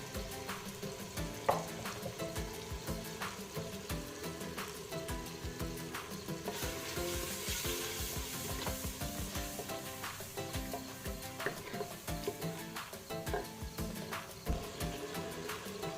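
Spices roasting in a pan for a liver (kaleji) dish, with turmeric and garam masala, crackling and sizzling in a steady fine hiss dotted with small pops and occasional stirring clatter, close by and fairly quiet.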